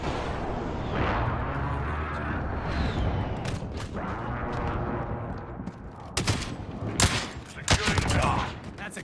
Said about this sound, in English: Fusion airstrike inbound.